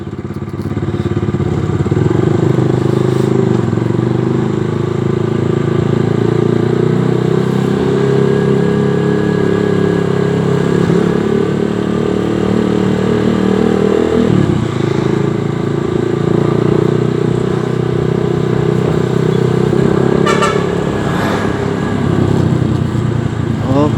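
Dense road traffic at a stoplight, motorcycles and cars packed closely, idling and revving nearby, a steady loud drone with occasional clatter throughout.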